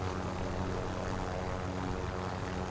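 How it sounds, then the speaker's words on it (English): A steady, dense whirring roar from a helicopter in a battle royale video game fills the whole stretch, constant and fairly close with no talk over it. "We got a helicopter."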